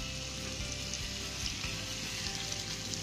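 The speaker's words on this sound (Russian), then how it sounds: "Добавляем на сковороду сначала лучок." Steady, crackling sizzle of onion frying in a hot pan, continuous and close, with no voices.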